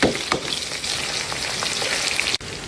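Garlic, onion, chili and fermented shrimp paste frying in oil, a loud, dense, steady sizzle close by with faint stirring taps and a brief dip near the end.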